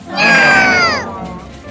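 A single drawn-out cat meow, close and loud, with a falling tone that fades over under two seconds.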